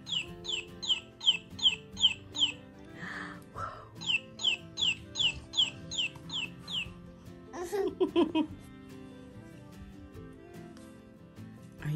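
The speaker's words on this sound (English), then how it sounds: "You want your chicken to make noises again?" A toy chicken's electronic clucking plays in two quick rhythmic bursts of repeated squawky notes, with a soft voice and light rustling in between.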